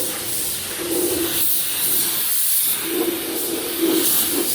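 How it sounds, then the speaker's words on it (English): Satin black enamel being spray painted onto a truck chassis, a steady close hiss that holds with only slight breaks for several seconds, with no talking. "we're just enamel blacking the chassis"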